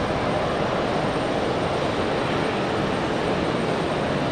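F-15 fighter jets passing over Raleigh-Durham airport, a dense, loud, unbroken broadband jet roar filling the whole stretch, with no voices.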